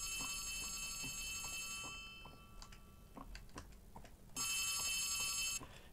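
An electronic telephone ring from a video game, in a scary orphanage setting, sounds in repeated bursts at the start and again near the end, with soft ticking taps in between.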